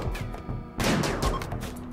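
Assault rifle fire in the video game RimWorld: dense, rapid bursts of shots blending into a loud, crackling fusillade that surges sharply partway through and keeps rattling without pause.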